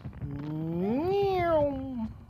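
A low human voice imitates a cat's meow in one drawn-out call that rises and then falls in pitch, close and moderately loud, with game sounds faintly underneath.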